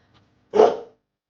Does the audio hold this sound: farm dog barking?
yes